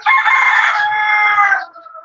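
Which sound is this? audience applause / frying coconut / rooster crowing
rooster crowing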